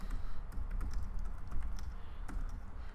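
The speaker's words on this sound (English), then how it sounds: "So what I'll do is I'll just type that in," Steady run of keystrokes on a computer keyboard, close and fairly quiet, typing out a search for a Sizzix die in a craft room, with no talk.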